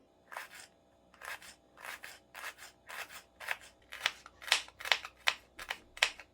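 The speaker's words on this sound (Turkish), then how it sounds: "Öncelikle sarımsak keselim. Şöyle ince ince keselim." A knife slicing garlic thinly in a steady series of crisp, close cuts, picking up pace toward the end, with no talking.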